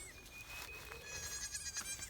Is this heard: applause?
no